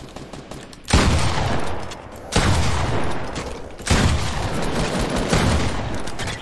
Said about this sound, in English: dude shooting with a deagle or a pistol up there